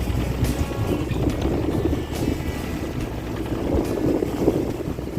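Steady outboard-driven dinghy motoring across a Greek Ionian bay toward shore, a continuous low engine drone with wind and water rush holding level throughout.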